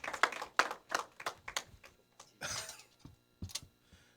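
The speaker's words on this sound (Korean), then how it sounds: "이 시간 우리 목사님 나오실 때 환영의 박수로 맞이해 주시면 감사하겠습니다" A church congregation gives scattered, fairly faint claps to welcome the pastor to the front. The claps are sparse and irregular, with short gaps between bursts.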